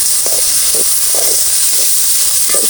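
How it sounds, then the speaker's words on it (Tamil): Curry leaves sauté with salt in a hot pan, producing a loud continuous hiss with rhythmic scraping strokes roughly twice a second, close up and with no voices. "இதெல்லாம் நம்ம உப்பு உள்ளே சேர்த்து அப்படியே வதக்கிக்குவோம்"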